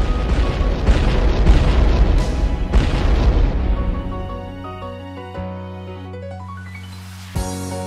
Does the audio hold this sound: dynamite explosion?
yes